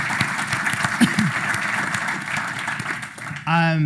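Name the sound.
audience applause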